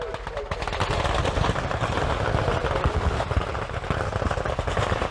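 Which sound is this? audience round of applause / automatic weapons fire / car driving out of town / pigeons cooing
automatic weapons fire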